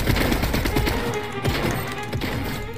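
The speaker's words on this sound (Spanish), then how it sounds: "¿Por qué hay tantos ruidos de disparos?" Rapid video game gunfire crackles in dense bursts with heavy thuds and crashes, loud and close, rattling almost continuously through the moment.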